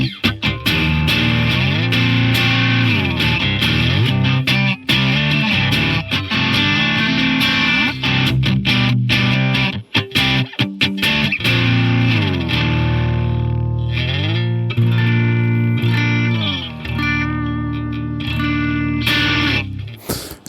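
An electric guitar on the bridge pickup in split-coil mode with the volume turned fully up, played through a FRED distortion pedal: gritty, sustained chords and riffs for about twenty seconds, loud and close, with no talking.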